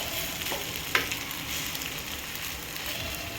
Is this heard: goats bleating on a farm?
no